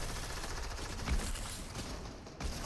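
A charge shotgun fires in Fortnite, with a couple of sharp blasts standing out from a dense, continuous wash of game gunfire and noise.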